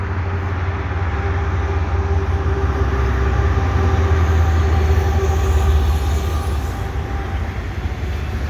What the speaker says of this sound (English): This train is running slow.